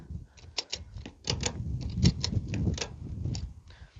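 A ratchet tie-down strap is cranked tight over square steel tubing loaded on a one-ton truck: a quiet, irregular series of sharp clicks and clacks, close by, in short bursts.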